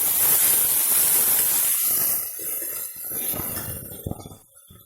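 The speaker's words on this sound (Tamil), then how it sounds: "இஞ்சி பூண்டோட பச்சை வாசனை போகிற வரைக்கும் நல்லா வதக்கிக்கலாம்." Ginger garlic paste and onions sizzle and hiss loudly in a hot pan for a mutton fry, the hiss easing partway through, with a metal clink near the end.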